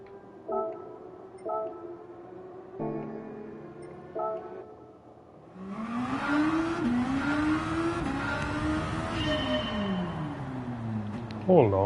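Engine notes from a race car lapping in Gran Turismo 7: after a few short blips a loud engine climbs and falls through gear changes, revving hard with clear rising pitch sweeps, near and continuous over several seconds.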